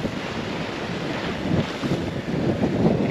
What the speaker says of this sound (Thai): นี่ครับบรรยากาศทะเลของท้องทะเลนะครับบรรยากาศท้องทะเลของจันทบุรีครับ